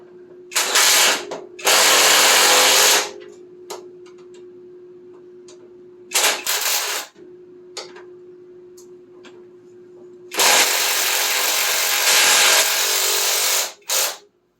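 A power tool snugs bolts on the front suspension of a Triumph TR6, firing in several loud, harsh ratcheting bursts of one to three seconds each, separated by pauses filled with a steady low hum, and heard up close without talk.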